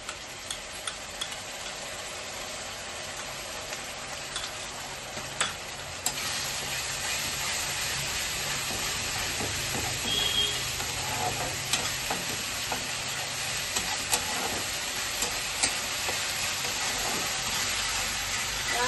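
A paste of ginger, garlic, onion and green chili sizzles in a pan while cooking a katla fish kalia, a steady close frying hiss with scattered spoon scrapes and clicks, louder after the paste goes in.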